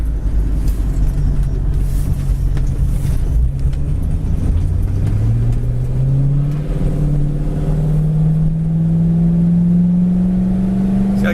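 A 1966 Ford Mustang GT accelerates hard from inside the cabin, its engine note climbing steadily as it pulls through the gears, loud and continuous with no talking over it.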